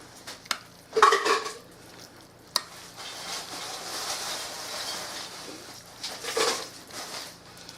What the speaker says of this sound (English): now I'm going to stir these in